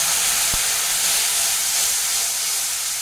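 A splash of water hits ginger, turmeric and coriander-cumin powder in a hot pan, raising a loud, steady steam hiss with a brief tap at the start that fades slightly over three seconds.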